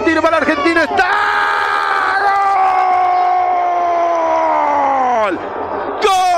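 Football stadium crowd at a Uruguayan Clausura 2023 match between Fénix and Defensor Sporting roars loudly over a goal, with a long sustained shouted voice ringing above the steady cheering for several seconds.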